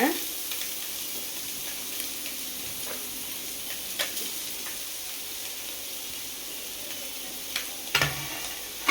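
Fish pieces frying with softened onions in a pan for fish puttu, a steady soft sizzle throughout with occasional faint scrapes and clicks of stirring, close by and fairly quiet.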